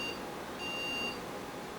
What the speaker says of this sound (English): our 2 end of post beeps